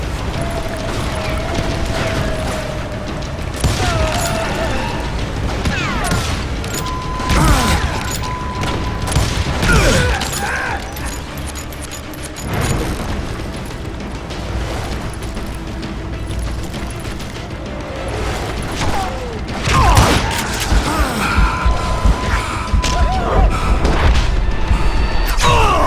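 Gunfire in the video game Call of Juarez Gunslinger, a dense stream of booms, mechanical clacks and metallic impacts over a constant loud game soundtrack, with no clear pauses between them.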